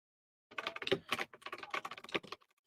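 Rapid typing on a computer keyboard: a dense run of close, crisp key clicks in short irregular bursts, with no talk over it.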